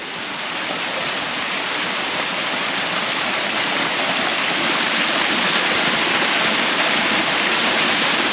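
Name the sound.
small waterfall in Nepal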